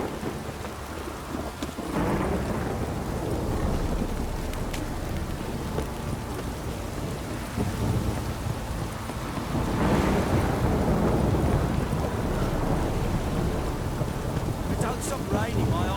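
Steady rain with rumbling thunder in The Witcher 3 video game, a continuous downpour that swells with low rolls of thunder around the middle and near the end.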